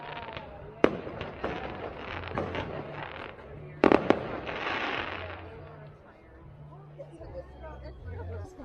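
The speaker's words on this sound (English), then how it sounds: "More fireworks. Yeah, more fireworks." Fireworks bang and crackle at dusk during a bus rally, with sharp nearby reports around one and four seconds, ongoing crackling between them, and a crowd murmuring and talking throughout.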